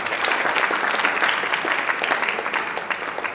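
A classroom audience at an acting masterclass breaks into steady, dense applause, many hands clapping close by for the whole stretch with no talking over it.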